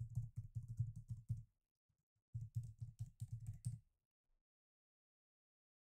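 Rapid keystrokes on a computer keyboard while logging in to Twilio, close and crisp, in two quick bursts separated by a pause, with no voices.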